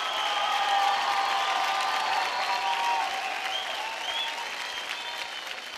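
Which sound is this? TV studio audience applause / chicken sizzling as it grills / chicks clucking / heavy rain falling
TV studio audience applause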